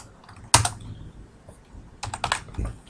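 Typing R code on a computer keyboard, a sharp single keystroke followed by a scattered pause, then a quick cluster of clicks near the end, close and clear with no voices.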